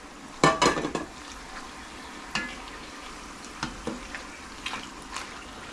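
Tortilla chips deep fry in oil for Texas-style nachos, a soft steady sizzle broken by scattered clinks and stirring knocks, close and fairly quiet, with no talking.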